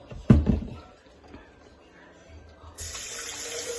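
Water is poured into a blend of ginger, onion and tomatoes: a couple of knocks, then a steady splashing stream that starts near the end and keeps running, with no talk.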